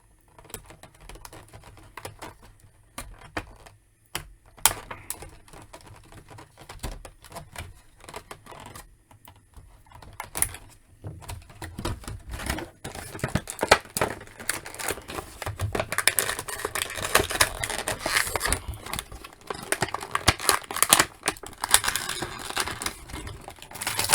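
Ties are snipped and pulled away from the packaging of a 90s-style Mattel Aquaman action figure: sparse small clicks at first, building into busier crinkling plastic and snipping noises up close.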